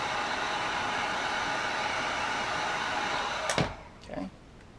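Heat gun blowing hot air over a vinyl graphics wrap on a Losi Desert Buggy body, a steady close hiss that cuts off with a clunk, then brief handling noises.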